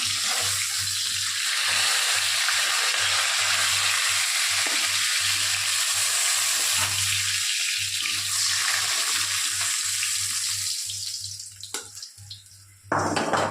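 Bata fish frying in hot oil, a bright, steady crackling sizzle that runs for most of the stretch before thinning out, with a few sharp clicks near the end.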